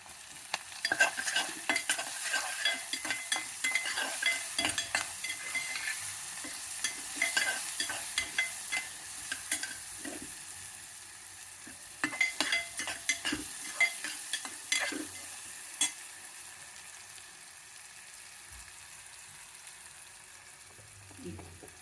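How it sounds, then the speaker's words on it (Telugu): Turmeric and ginger garlic paste fry in a pan for a chama dumpa pulusu lunch, a low continuous sizzle with frequent close scraping and clicking stirring strokes that thin out toward the end. "ముందు పసుపు, అల్లం వెల్లుల్లి పేస్ట్ వేసుకొస్తున్నామండి."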